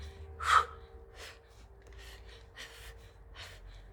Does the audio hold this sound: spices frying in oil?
no